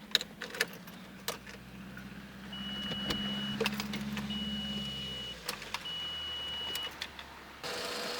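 Car engine cranking after a dead battery was charged, with a short starter whir and clicks amid quiet handling noises, faint and close, ending without a clear catch.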